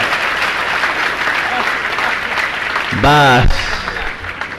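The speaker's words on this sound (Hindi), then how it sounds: "जोरदार तालियां बजाएगा।" Loud, dense audience applause at a Jain religious question-and-answer gathering, sustained throughout with a voice briefly speaking over it midway.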